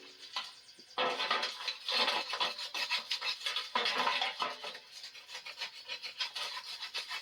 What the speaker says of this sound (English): scrape what I can